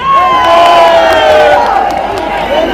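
A large protest crowd at Jantar Mantar roars and cheers in a sustained, loud swell of massed voices, with shouted whoops rising above the din for the whole stretch.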